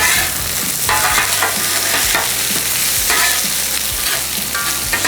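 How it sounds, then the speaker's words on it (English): Cabbage stir-fried in oil and tossed in a pan gives a loud, dense sizzle broken by rhythmic scraping and rustling bursts as the vegetables are flipped, with no speech. "I want to toss our cabbage a little bit."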